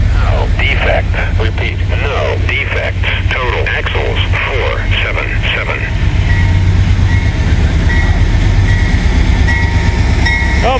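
A freight train rolls past on the railroad through a village on a weekday morning, a loud, steady rumble with rhythmic wheel clatter and a sustained horn-like tone, while someone talks over it early on.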